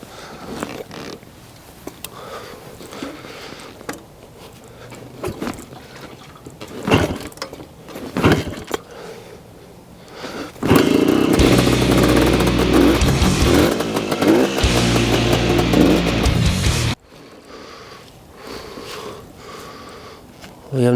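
A 1974 Honda Elsinore MT 250 two-stroke dirt bike with no clutch starts after some clunky attempts, then runs loudly and steadily for several seconds before abruptly cutting out.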